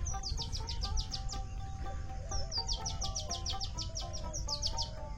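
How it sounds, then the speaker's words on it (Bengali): Birds call from a tree by a village road among harvest-ready rice fields, a quick chirping series that repeats in bursts over a low steady background, with no talk. "একটি গাছে পাখি ডাকছে।"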